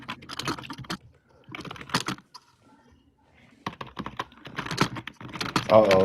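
Brisk clattering keystrokes on a computer keyboard in short bursts separated by pauses, fairly close and loud, with a voice speaking briefly near the end.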